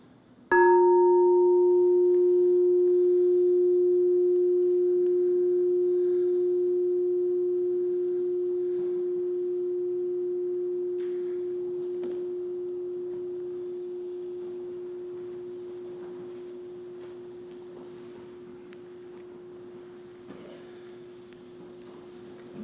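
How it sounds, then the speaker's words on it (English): A meditation bell rung once at the close of a sitting meditation, a single clear struck tone that blooms and then rings out steadily, decaying slowly over about twenty seconds with no talk. "So here's the sound of the bell,"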